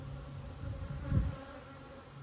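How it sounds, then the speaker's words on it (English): A low, continuous buzzing of many honeybees in a nucleus hive, faint and steady, with a slight swell in the middle. "It's a lot of bees in the bottom."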